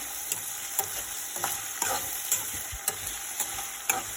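Chana dal frying in oil in a pan for a red chutney, a bright steady sizzle punctuated by regular soft knocks of a spoon stirring roughly every half second.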